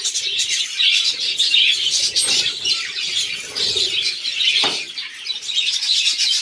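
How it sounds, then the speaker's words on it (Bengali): Many small birds in an aviary chirp and tweet constantly, a busy overlapping chorus close by, with occasional louder squawks and a brief flutter. "এটা আমার এভিআরি, পাখিগুলো খুব ভালোই আছে।"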